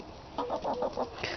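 Chickens, a Silky among them, cluck in a run of about six short, rhythmic calls, close and moderately loud with no talking.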